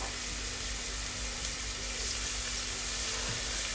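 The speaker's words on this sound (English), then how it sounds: "So that goes in, high heat. It's all being fried." Garlic cloves fry in a pan on high heat while dal is being made. A soft, steady sizzle and hiss runs throughout, fairly quiet and even, with no voices.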